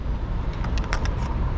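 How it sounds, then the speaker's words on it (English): A car drives past on a road in Edinburgh, a steady broadband road rumble with some light rattling high-pitched clicks, heard from a cyclist's position without talk. "There's a car coming down, man."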